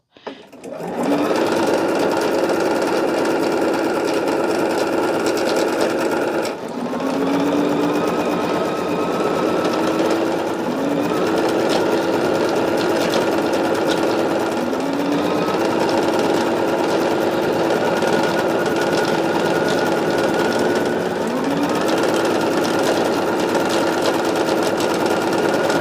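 A sewing machine stitches a charm pack quilt block in one long, loud, steady whirring run, with a few brief dips and pitch slurs as the pace shifts, up close and nearly uninterrupted.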